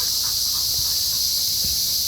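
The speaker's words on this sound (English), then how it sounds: "see if I can get away from the cicadas." Cicadas buzz outdoors on a walk with dogs, a constant, high, shrill drone that fills the whole moment with no break. Faint low footstep-like thumps sit underneath.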